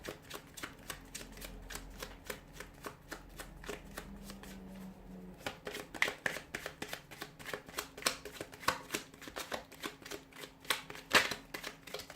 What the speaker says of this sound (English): give the cards a shuffle here